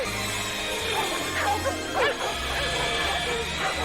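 Several dogs bark and yip frantically in a scene from the film Mac and Me, a loud overlapping volley with crashing noises and a soundtrack underneath.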